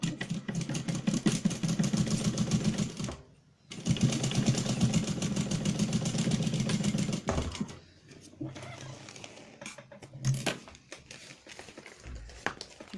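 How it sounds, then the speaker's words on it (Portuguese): A sewing machine runs close by with a fast, even mechanical stitching whir on stitch number 3, pausing briefly, then continuing before stopping in shorter bursts. "E aqui eu vou costurar com um pé de máquina e o ponto número 3."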